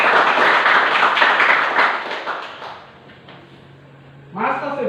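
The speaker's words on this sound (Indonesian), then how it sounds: "beri aplaus dulu buat mereka berdua" Students in a classroom applaud two of their classmates, a dense, fairly close clapping that lasts about two and a half seconds and fades out before a voice speaks.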